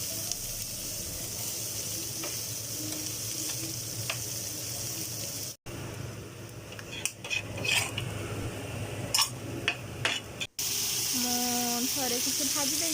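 Small fish fry in a pan with a steady sizzle, interrupted by two brief cuts, while dishes and utensils clatter and bump nearby.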